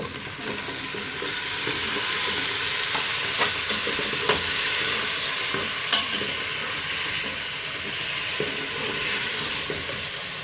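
Chopped tomatoes frying in a hot pan of meat and spices for ghiya chapni and gosht, a steady loud sizzle with scattered scraping clicks of a spoon stirring.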